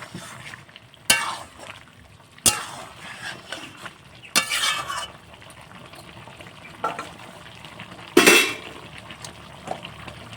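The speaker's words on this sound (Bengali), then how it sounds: "তো এইভাবে আমি আবার একটু নেড়ে নেব।" Oil-free chicken curry with potato pieces is stirred in a pot after simmering covered, with several sharp scraping strokes of a spoon over a low, quiet bubbling sizzle.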